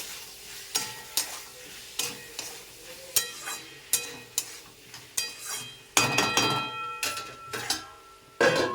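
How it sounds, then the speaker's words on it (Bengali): Boiled peas and potatoes with salt being stirred in a pan for ghugni: steady, regular scraping strokes, roughly one or two each second, over a faint sizzle, close and clear with no talk. "এবার আমি এটাকে নাড়াচাড়া করবো।"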